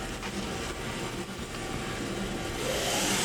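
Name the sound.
Kia SKT-15LMS CNC turning center spindle running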